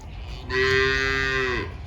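A tethered cow gives a single loud, close moo lasting about a second, set against low outdoor background noise.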